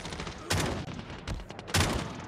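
ECHO shotgun in Call of Duty Mobile firing two loud, close blasts about a second apart, each a sharp crack with a brief rumbling tail amid busy game noise.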